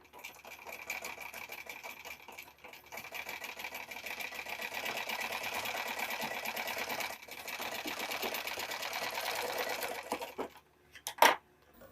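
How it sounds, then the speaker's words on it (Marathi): A sewing machine runs in long steady stretches while slowly stitching a straight seam along a blouse strip, with a brief pause midway and a sharp click near the end. "तर ती शिलाई एकदम सावकाश द्यायची आणि सरळ द्यायची"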